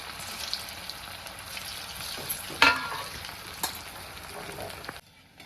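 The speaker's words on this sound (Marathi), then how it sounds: "आता हे तेलामध्ये सोडून घ्यायला लागले छान असं आपल्याला ह्याला तळून घ्यायचं आहे" Sago balls deep frying in hot oil, a steady close bubbling sizzle with a few sharper pops and splashes, ending abruptly in near silence.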